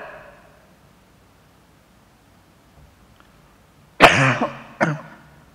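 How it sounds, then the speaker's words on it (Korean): Two sharp coughs close to the microphone after a few seconds of near-silence, the first stronger than the second. "꼭 제가 성깔 올라오면 기침을 해요."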